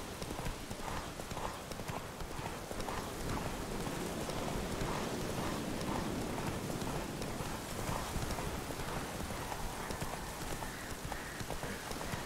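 In The Witcher 3: Wild Hunt, Roach the horse trots with dense, steady hoofbeats amid rain-like ambient noise, continuous and fairly loud throughout.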